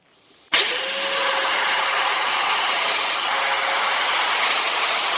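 A handheld Festool Domino DF500 joiner kicks on suddenly and runs at a steady, loud high-pitched whine for several seconds, close by, cutting a mortise.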